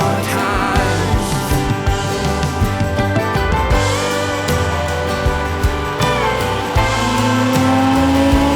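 A Porsche Boxster engine drones steadily and loudly close up, with rising and falling revs and a sustained pitch climb near the end, mixed with music.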